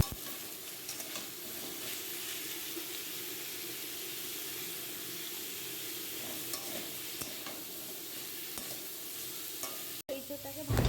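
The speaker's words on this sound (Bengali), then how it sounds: "এবার ওই তেলের মধ্যে ইঁচড়টাকে একটু হালকা ভেজে নেব।" Young jackfruit pieces fry in hot oil in a pan for a jackfruit chicken curry, giving a steady, close sizzle with light stirring scrapes throughout, then a brief break near the end.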